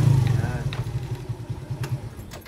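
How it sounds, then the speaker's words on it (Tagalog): An aggressive-sounding motorcycle engine runs with a steady low throbbing pulse, close by and moderately loud, while someone talks over it. "yung makina niya, parang laging galit na galit"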